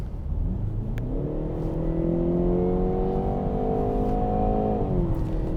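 Jaguar E-Pace in dynamic mode accelerating hard from about 70 km/h, the engine note rising steadily in pitch for several seconds then easing off, loud and close from inside the cabin over road noise.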